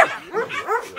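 Several dogs at play give a quick run of short, close barks and yips mixed with whimpering, all packed into about one second.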